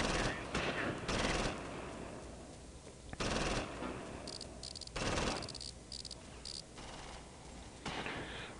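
Rapid bursts of close gunfire ring out in Close Combat: Invasion Normandy, a WWII battle between Allied airborne troops and Fallschirmjäger, loud, dense crackling volleys that come in waves with short lulls, with no talk over them.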